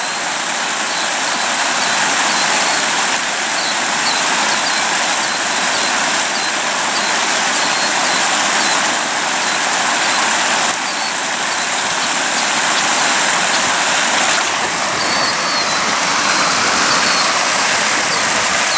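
Water pours steadily over a concrete dam overflow in Walla Walla, Washington, a loud, constant broadband rush that holds unchanged for the whole stretch, heard up close with no voices.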